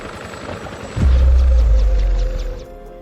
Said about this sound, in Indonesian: Tak berselang lama, datanglah helikopter ke atas.